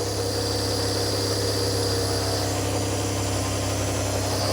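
A barn-find Porsche 911 Carrera engine runs on choke at a steady idle, a loud, constant mechanical drone with a low throb and no talking over it.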